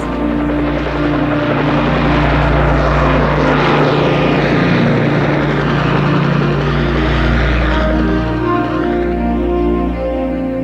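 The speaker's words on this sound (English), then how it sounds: "Boeing went on to develop the Chinook battlefield helicopter" A Boeing Chinook battlefield helicopter flying, its twin rotors and engines making a loud, steady, continuous drone with a heavy low throb throughout.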